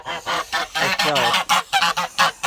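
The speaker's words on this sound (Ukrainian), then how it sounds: "Несеться одна гуска. Я її зловив." A laying goose, caught and held by hand, honks loudly and repeatedly at close range, a rapid series of harsh, nasal calls with no talking over them.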